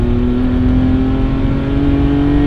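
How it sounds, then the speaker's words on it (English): An 830 WHP BMW 335i, a heavily modified runway racer, idles and cruises at light throttle with a steady close-up engine drone and turbo whir, its wastegate fluttering throughout. "A little bit of wastegate flutter at light throttle."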